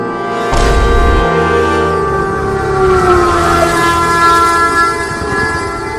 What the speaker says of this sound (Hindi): आ गई ट्रेन आ गई। देखो मम्मी, ट्रेन आ गई।